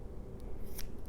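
Scissors snip yarn free from crochet work on a reversible two-sided ear warmer, giving a short, crisp cut near the close of the moment against a quiet background.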